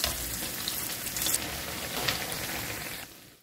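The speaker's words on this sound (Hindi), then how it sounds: "इसे दोनों ही साइड से गोल्डन ब्राउन होने तक फ्राई करेंगे" Chana dal kababs fry in hot oil, the crispy kababs giving off a steady, close, moderately loud sizzle and crackle that keeps going before easing off at the very end.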